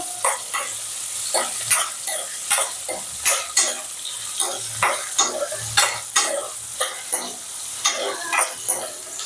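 Ingredients sizzle in a pan for a Srikakulam-style ulava kattu horse gram dish, steady frying hiss broken by repeated sharp scraping stirs of a utensil against the pan, close and fairly loud with no talking.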